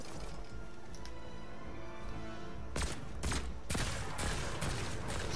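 Bursts of gunfire in a video game ring out over a droning musical backdrop. Several sharp, loud shots land in the second half, some stacked close together like a short volley.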